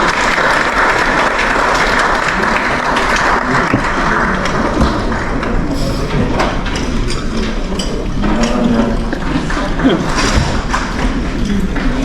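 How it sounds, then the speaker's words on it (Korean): A large crowd at a hotel seminar in Busan applauding steadily and loudly, continuous clapping with no break for the full stretch. "다시 한번 박수 부탁드리겠습니다."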